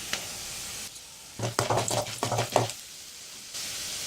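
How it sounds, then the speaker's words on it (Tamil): Mustard seeds and lentils fry in hot oil in a kadai for beetroot rice, a soft sizzle with a burst of crackling, stirring and popping in the middle of the clip, close by and fairly quiet, with no talking. "நல்லா பொன்னிறமாக வர அளவுக்கு பருப்பெல்லாம் நம்ம வறுத்துக்கணும்."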